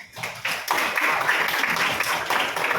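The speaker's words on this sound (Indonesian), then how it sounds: "Ya, tepuk tangan untuk Raisa." Classroom applause for a pupil, a dense burst of clapping from the class that starts after a brief pause and carries on steadily and fairly loud to the end.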